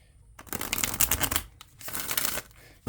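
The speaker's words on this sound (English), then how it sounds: "I'm going to shuffle one more time" Two quick bursts of cards riffling together, a crisp fluttering rush each time, close to the listener.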